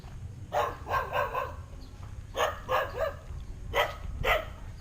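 Dogs bark in three separate bursts of several sharp barks each during a walk around a residential block, and the barking sounds moderately close over low background rumble.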